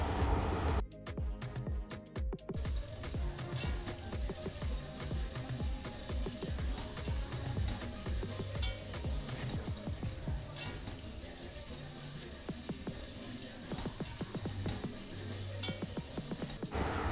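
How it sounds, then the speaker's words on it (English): Beef being stirred on low heat with onions in a pot, a continuous soft sizzle with scattered stirring scrapes and clicks, close but fairly quiet, no voices. "It is time to add in my beef and give it a good stir on low heat so it can absorb the delicious taste of my onions"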